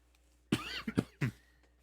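Several close coughs in quick succession, three or four harsh bursts in a quiet room.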